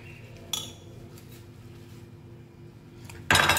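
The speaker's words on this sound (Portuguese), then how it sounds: "Dá uma mexidinha com a faca mesmo." A metal knife clinks against a cooking pot while instant noodles are stirred, giving a couple of sharp scraping taps and a brighter clatter at the end over faint kitchen background.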